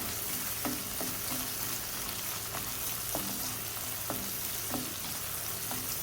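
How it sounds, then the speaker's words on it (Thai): Cumin seeds stir-fried in a pan, a steady soft sizzle broken by regular scraping strokes of a spatula, close and moderately quiet, no speech. "แล้วก็ผัดให้เม็ดยี่หร่าเขาสุกนะคะ หอมค่ะ"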